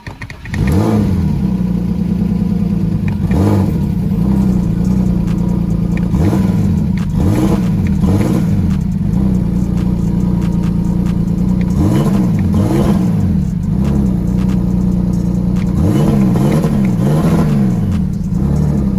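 A turbocharged BMW E46 engine starts for the first time after sitting a long while and idles, then is revved repeatedly in rising and falling bursts, loud and close, with a throaty mechanical roar.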